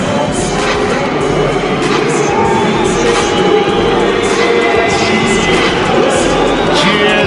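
Large boxing arena crowd roaring and cheering as a fighter enters for a world title unification bout, a loud continuous wall of noise with a commentator speaking over it.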